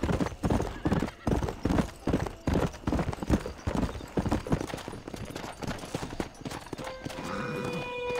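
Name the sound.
horse hooves and neighing in the Red Dead Redemption video game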